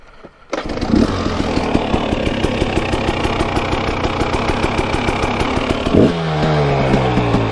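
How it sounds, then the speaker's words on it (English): Dirt bike engine idling after warm-up on a trail hill climb, a steady close putter with a brief blip of revs near the end, no talking. "I gotta set my idle. Just got the bike warmed up."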